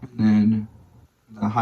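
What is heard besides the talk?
No everyday noise stands out behind the speech.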